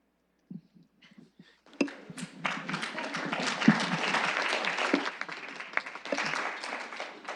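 An audience at a city committee meeting breaks into sustained applause after a few scattered early claps, loud and steady for several seconds.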